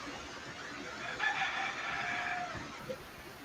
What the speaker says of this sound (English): you hear that rooster in the background?